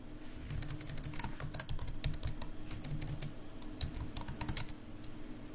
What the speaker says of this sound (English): So I would just type in a name.